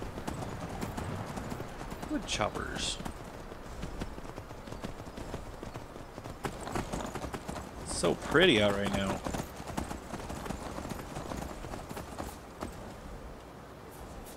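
Horse hooves clip-clop steadily at a walking pace in the video game Skyrim while a person talks over them, with a brief whinny partway through.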